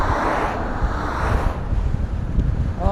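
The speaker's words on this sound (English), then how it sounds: "The wind has like, whoa, I don't know if you can hear it. Super sideways windy" Strong gusty crosswind buffets the microphone during a ride on a Begode A5 electric unicycle along forest bike paths, a loud continuous low roar with no speech.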